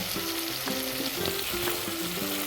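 Brinjal (eggplant) pieces frying in a pan, a steady close sizzle and crackle with faint stirring scrapes, no voices.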